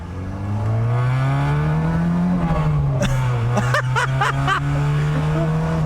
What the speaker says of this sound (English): Listen to that exhaust, guys, that's incredible.